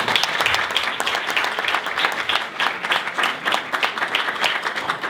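An audience at a university debate tournament final applauds a debate judge, sustained crowd clapping with many overlapping claps, fairly loud and continuous throughout.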